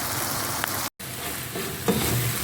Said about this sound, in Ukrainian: І продовжуємо смажити.